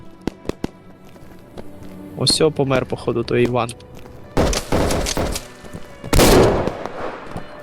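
Sharp rifle shots crack out in a desert battle between US and Soviet forces in the video game Operation: Harsh Doorstop, a few isolated reports early then louder bursts, with someone talking between them.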